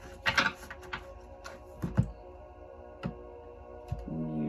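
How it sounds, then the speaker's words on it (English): A small section of a card deck is shuffled in a quiet room, giving a few soft, quick riffling snaps and taps spaced irregularly, close and faint. "I'm just going to shuffle this little section right here."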